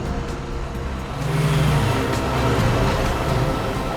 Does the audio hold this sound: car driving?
yes